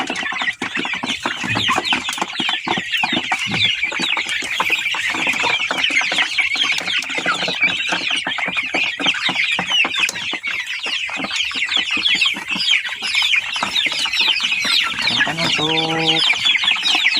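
Many free-range village chickens cluck and chatter continuously in a dense, close chorus, with a brief rhythmic tapping near the end.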